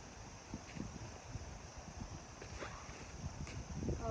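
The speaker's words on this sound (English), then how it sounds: "there's a lot of wind today" Gusty wind blows across an outdoor wiffleball field, a steady low rumble of buffeting with stronger surges throughout, close to the microphone and with no voices.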